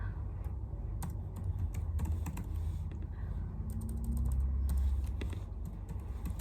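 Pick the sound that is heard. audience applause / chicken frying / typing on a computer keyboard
typing on a computer keyboard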